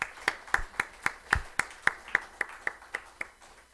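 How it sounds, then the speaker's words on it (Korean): A church congregation claps for members with December birthdays during a Sunday worship service, a sparse run of about fourteen distinct hand claps at a steady rhythm, fairly close and moderately loud, with no talking over them. "우리 박수로 축하하도록 하겠습니다"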